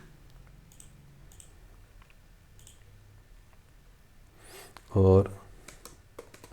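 Name being typed on a computer keyboard, a run of faint, quick key clicks under a man's speech, with one louder spoken burst near the end.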